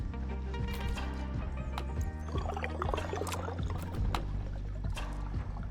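Water poured to top up a tank inside a sci-fi survival game, a steady close splashing and gurgling stream with scattered clunks and drips over a low constant hum, no talking.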